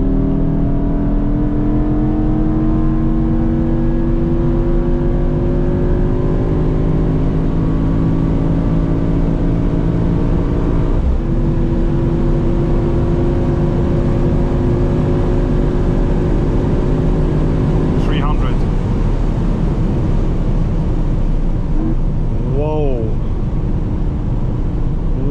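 An 843 hp hybrid V8 Mercedes GT63 accelerates hard on a German autobahn at night, heard from inside the cabin as a loud, continuous engine drone with rising pitch through the gears and a brief shift break.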